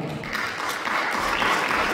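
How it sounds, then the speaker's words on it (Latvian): Applause for children receiving participation diplomas at a ceremony in Bauska: a short burst of many hands clapping, dense and steady, lasting two seconds. "Aplausi!"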